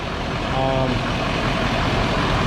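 A 2017 Chevrolet Silverado 2500HD pickup engine idles steadily nearby, a low continuous rumble with no revving.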